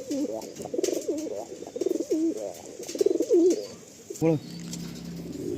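Two male loft pigeons coo in repeated rolling phrases, close and clear, with a brief flutter or handling noise near the end.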